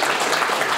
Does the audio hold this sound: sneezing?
no